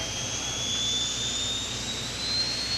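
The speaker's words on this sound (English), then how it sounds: "You can hear the spin as they bring the turbines up to speed and get these jet motors lit up on the racetrack." Jet dragster turbine engines spin up at a racetrack, a loud steady roar under a high whine that climbs slowly in pitch, continuous and without talk.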